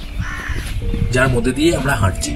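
A crow caws in a misty hillside forest on the Sandakphu–Phalut trek, its calls rising under a person speaking nearby over steady wind-like background noise.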